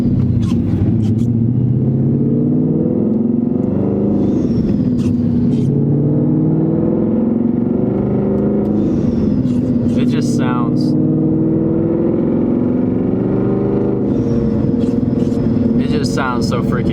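A boosted 2020 Mustang GT rumbles in a deep, loud drone, with the engine note rising and falling as it revs and brief sharp hisses like a blow-off valve between pulls, and a voice talking throughout.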